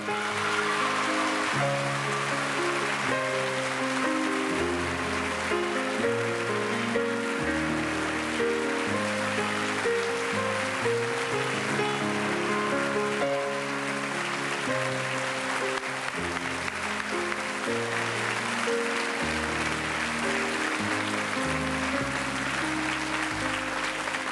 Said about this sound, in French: je voudrais qu'on applaudisse très très fort Madame Rosella Hightower.